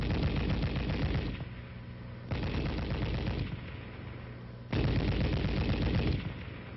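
An M73 coaxial tank machine gun fires three sustained automatic bursts, each lasting over a second, loud and rapid, with short pauses between them and no other sound.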